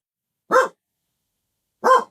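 A dog barks twice, two short, loud single barks about a second apart with silence between them, no talking.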